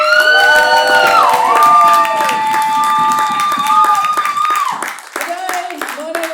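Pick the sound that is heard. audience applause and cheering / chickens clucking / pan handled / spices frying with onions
audience applause and cheering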